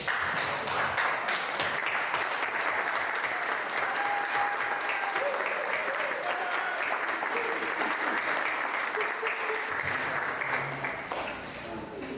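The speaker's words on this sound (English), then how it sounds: "I want everyone to stand up and give him a standing ovation." A large crowd at a Startup Grind event in Miami, Florida gives a standing ovation, applauding steadily and loudly for several seconds, a dense wash of clapping that tapers slightly at the end.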